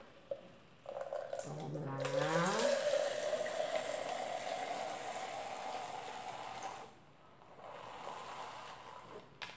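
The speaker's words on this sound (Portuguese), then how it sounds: "Vou colocar agora 400 ml de vinagre. Vinagre de álcool branco" Liquid pouring as 400 ml of white alcohol vinegar goes into a homemade rice-flour fabric softener mix: a steady, moderately loud gushing stream lasting several seconds, then a brief pause and a fainter trickle.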